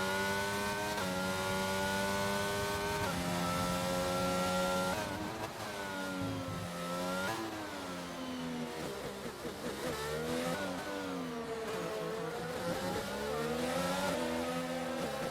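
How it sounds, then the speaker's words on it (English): A Mercedes race car in a racing video game sims a hot lap at the France round of an online league, its engine screaming loud and steady, pitch climbing through each gear then dropping sharply at every upshift, repeating across the lap with no voices. "Arden Dash, who is now starting his hot lap in the Mercedes, and we'll jump on board with him and watch him for this hot lap as well"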